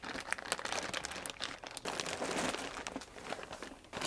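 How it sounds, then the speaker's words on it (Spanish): A protective plastic bag crinkles and rustles close up while an MSI Aegis X3 VR gaming PC is unboxed, with dense crackling handling noise running throughout and no talk. "Y tiene también una bolsa de plástico de protección."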